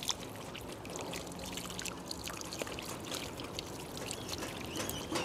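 Water pours and trickles steadily onto a water apple tree and its leaves in Bali, with a continuous splashing wash and faint rustling; no voices.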